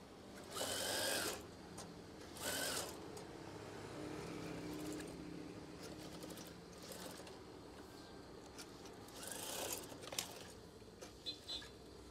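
Sewing machine stitching folded eyelet swag curtain fabric in a few separate bursts, each a rapid whirring run of needle strokes, with quieter handling and rustling between runs.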